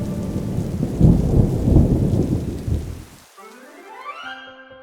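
Deep rolling thunder with rain at Sirpur Wetland, a protected lake in Indore, a loud low rumble that fades after a few seconds into clear, nearby bird calls.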